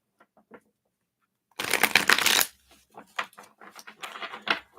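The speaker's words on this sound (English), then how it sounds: "let's shuffle these up here" A deck of cards is riffled and shuffled at a reading table: one quick, crisp burst of flicking cards, then softer handling and tapping sounds, close and fairly quiet.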